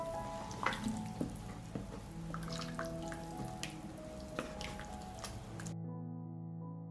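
Cauliflower, about 200 grams, stirred in a pot of broth with broccoli, giving soft wet squelches, drips and light sizzling with a few sharper knocks from the spoon, close and moderately quiet, then ending abruptly.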